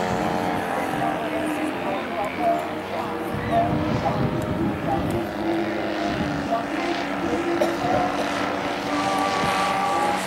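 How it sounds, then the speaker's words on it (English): A World War I propeller aircraft comes in to land at an airshow, its engine a steady droning hum with a tone that shifts as it nears, while people talk in the background. "it looks like the Falcon B-7 is coming in for a landing here"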